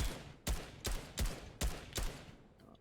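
Gunfire in a battle royale video game comes as five or six sharp, evenly spaced shots about every 0.4 seconds, moderately loud with no talking.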